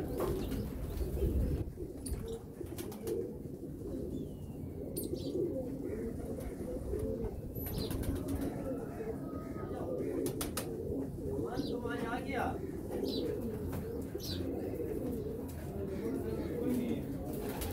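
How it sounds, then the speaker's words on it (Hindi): Pet pigeons coo steadily in a loft, with continuous soft cooing throughout and occasional chirps, while someone talks over them. "ये मेरे शौक़ के कबूतर है।"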